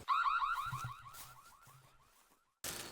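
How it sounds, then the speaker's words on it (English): A MagicEagle solar-powered cellular trail camera's anti-theft alarm sounds loud and close, a rapid series of shrill, repeating electronic chirps that fade out, then a sudden harsh burst starts after a brief silence. "as they remove your trail camera from a tree and begin to move, it's going to sound that loud alarm"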